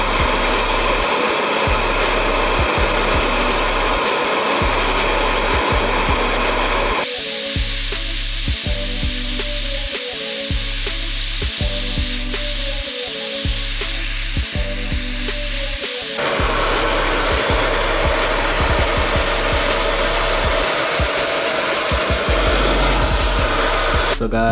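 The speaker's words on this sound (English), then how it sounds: "I just filled this thing all the way up using the extractor" A carpet extractor drones loudly and steadily while cleaning the filthy interior of a Genesis Coupe at night, its pitch and suction shifting through the run, with a rhythmic pulsing low thump underneath.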